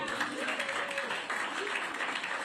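Crowd clapping at a political rally, a dense wash of applause filling the whole stretch with a faint voice carrying over it.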